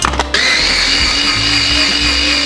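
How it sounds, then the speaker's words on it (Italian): A small mini blender whirs steadily as it purées a sauce of garlic, shallot and citrus pieces, starting after a brief clatter and holding a loud, continuous motor drone. "trasferiamo tutto il sughetto con tutti i pezzi di scalogno e di agrumi dentro un mini frullatore."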